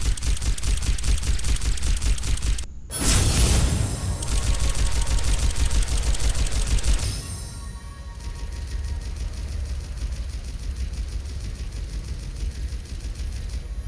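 Mercy's blaster in Overwatch fires rapidly and continuously, loud and dense for several seconds, broken by a brief gap, then fading to a quieter background of game noise.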